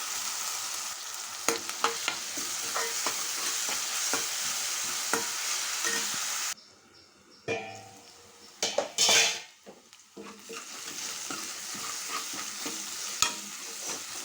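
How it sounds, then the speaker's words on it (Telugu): Chopped onions and green chillies frying in hot oil with cumin in a pan, a steady loud sizzle with metal spoon stirring clinks, briefly quieting midway before the sizzle returns. "ముందుగా కట్ చేసుకున్న ఆనియన్స్ పచ్చిమిర్చి వేసుకుంటున్నాను ఇవి మంచిగా ఫ్రై అవ్వాలి"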